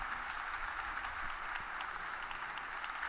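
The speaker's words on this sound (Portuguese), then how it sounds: "Os aplausos ao Papa Leão XIV, após então proferir o seu discurso neste encontro com a comunidade argelina" An audience in Algeria applauds Pope Leo XIV after his speech to the local community, a continuous, fairly faint crowd clapping heard at a distance with no pauses.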